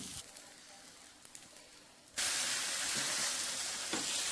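Flattened rice and coconut snack frying in a pan, a soft sizzle that abruptly swells into a loud, steady hiss of hot oil after about two seconds and continues without talk.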